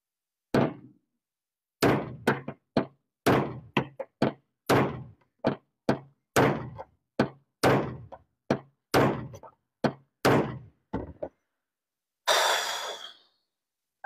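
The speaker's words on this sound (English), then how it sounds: "I am so tired of banging on that single freaking rivet that just doesn't want to cooperate." Repeated sharp metallic blows on a stubborn rivet in an uneven series, with a short pause between groups, ending in a brief scraping rush.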